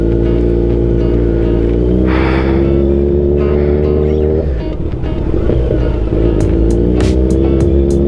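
A loud, steady Kawasaki Ninja 1000 motorcycle engine drone with a deep rumble holds throughout, shifting in pitch midway as it revs and settles, with no talking.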